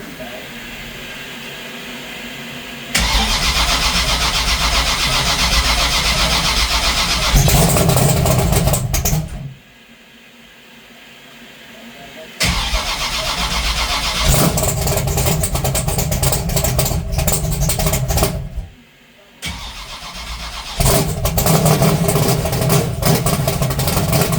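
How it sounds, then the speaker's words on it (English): A race car engine with its ignition on and fuel pumps running cranks and fires up, a loud sustained mechanical roar in long bursts broken by two short pauses, with talk heard around it. "So we crank it more without fuel pumps"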